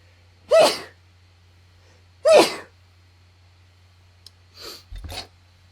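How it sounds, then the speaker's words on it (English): A person sneezes twice, loud, sharp bursts spaced a couple of seconds apart, followed by a few softer breathy snorts and sniffs, over a low steady hum. "I'm gonna sneeze in a second, though."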